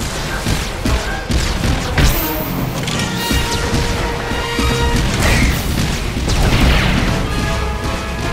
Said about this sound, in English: The Mercenary fires off a few Heatseeker missiles